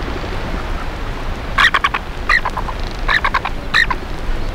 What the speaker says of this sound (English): Frigate birds, they're called.